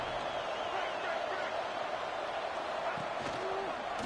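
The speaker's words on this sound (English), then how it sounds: "The crowd electric, trying to help Tech on this 3rd down." A stadium crowd roars on a third down in the College Football 26 video game, Texas Tech against South Carolina: a broad, sustained wash of noise, with a voice speaking over it near the end.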